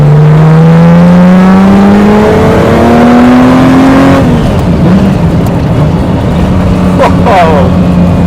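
A Lamborghini Miura engine revs up hard, pitch climbing through the gears before shifting, loud and close, with voices talking over it.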